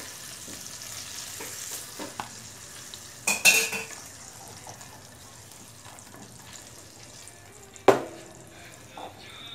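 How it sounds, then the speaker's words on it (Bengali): Fish frying in hot oil, a steady low sizzle with a few sharp clinks of a utensil against the pan as the pieces are lifted out; no talking. "মাছগুলো আমি 3 মিনিটের মতো ভেজে নিয়েছি, এখন তুলে নিচ্ছি"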